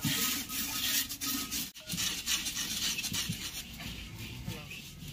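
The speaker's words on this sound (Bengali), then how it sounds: "দিদি চালটা ওদিকে নাড়তে নাড়তে এদিকে বালিটা একটু নেড়ে দেবো" Sand gets stirred in a clay pot while rice is puffed, making a steady soft scraping and rubbing that runs continuously beneath a faint voice.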